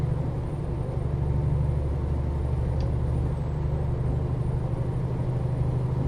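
An International LT fleet truck engine runs in a steady, deep rumble that stays constant and loud throughout, with no speech over it.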